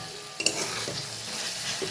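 Chicken stirred in a frying pan with meat masala and tomato ketchup over a lowered gas flame, a steady close sizzle running throughout, broken by a few sharp scraping clinks of the spoon early on.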